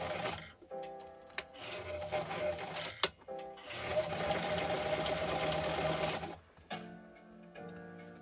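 A sewing machine stitches in two steady runs, with a short pause and a brief stop between them, fairly close and alone, then quiet handling noises.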